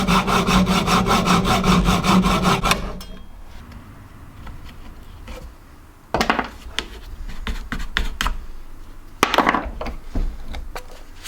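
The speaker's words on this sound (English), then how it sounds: "this Jubilee clip is rusted on, so I'm going to hacksaw it off" A hacksaw cuts through a rusted jubilee clip and rubber fuel pipe on an abandoned Sierra Sapphire RS Cosworth, loud and close with a fast steady rasp for about three seconds, then quieter scrapes and clinks.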